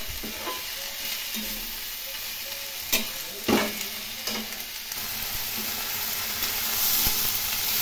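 Shredded cabbage for a Bengali cabbage curry fries in a pan with a continuous close sizzle and hiss, punctuated by a few sharp spatula scrapes and knocks.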